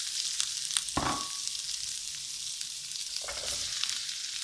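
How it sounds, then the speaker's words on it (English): Onion and kumara hit a large pan for a satay kumara curry, giving a steady sizzle with a burst of louder spitting as they drop in near the start and another shortly after, with no talking. "So my onion's going in. My kumara's going in at the same time."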